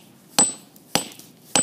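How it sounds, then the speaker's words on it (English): A hammer smashes a brick to make face paint: three sharp, close, loud strikes spaced about half a second apart, each ringing briefly before quiet returns. "you're going to get a hammer or another rock."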